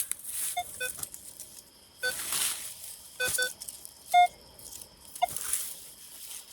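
A metal detector searching a New Hampshire cellar hole gives a bouncy signal: faint, intermittent electronic beeps that come and go in short clusters over quiet outdoor background.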